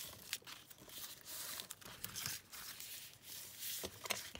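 Paper being folded by hand for a pocket, with close crinkling and rustling and sharp creasing taps in irregular bursts.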